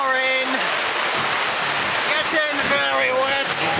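Steady rain pours down at an outdoor festival, a dense close hiss of falling water throughout, with people's voices and faint tonal sounds mixed in underneath.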